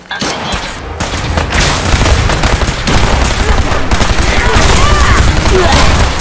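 Dense gunfire in Fallout 4 rings out as a sustained fusillade of rapid shots, loud and continuous with booming low end throughout, and a voice can be heard briefly among the shooting.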